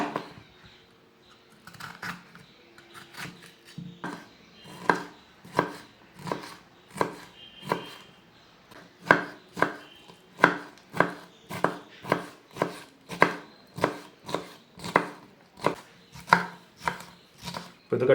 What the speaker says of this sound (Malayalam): ഒരു ക്യാപ്സിക്കം ചെറുതായിട്ട് കട്ട് ചെയ്തെടുക്കാം